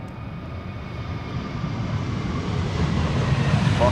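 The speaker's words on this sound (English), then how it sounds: "This is JetBlue going to Boston, Massachusetts, an A321neo flight" A JetBlue Airbus A321neo airliner bound for Boston at Amsterdam Schiphol Airport gives off a broad jet engine roar that swells steadily louder over a few seconds, with no talking.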